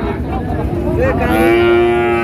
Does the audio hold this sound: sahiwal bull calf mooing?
yes